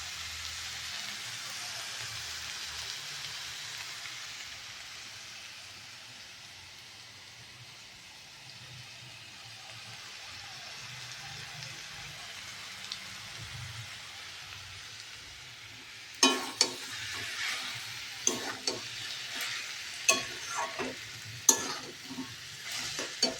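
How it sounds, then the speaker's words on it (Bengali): Cabbage frying with spices in a pan, a soft continuous sizzle that later turns into scraping, clattering stirring strokes in irregular bursts. "বাঁধাকপিটা কষানো হচ্ছে, মশলাটা দিয়ে কষানো হচ্ছে।"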